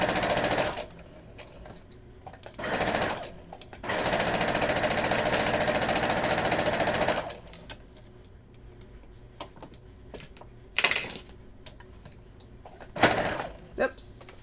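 A cheap sewing machine stitches a quilt border, its rapid mechanical rattle running in bursts, one short and one long stretch of several seconds, separated by quieter pauses with soft ticks and handling clicks, close by.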